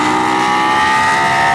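A BT Moto tuned Ducati Panigale V4S motorcycle accelerating hard, a loud, sustained, high-pitched engine roar that stays steady and close for the whole moment.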